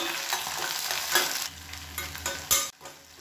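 Small onions, garlic cloves and curry leaves sautéing in hot oil, a continuous close sizzle broken by several louder stirring scrapes and bursts of crackle, no talking.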